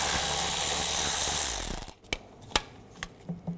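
A ratchet with a T20 socket turns out a screw on the intake manifold of a 2006-10 Volkswagen Jetta: a dense, steady run of ratcheting for about two seconds, then a few sharp, separate clicks and taps, close by, with no talk.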